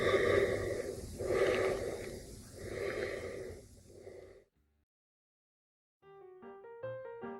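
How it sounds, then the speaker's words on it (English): Heavy, slow breathing from the 1978 horror film Halloween: four loud, rasping breaths in a steady rhythm, close and intimate, followed by silence and then a few brief tonal notes. "The movie ends with Michael's heavy breathing over multiple shots of where it's been"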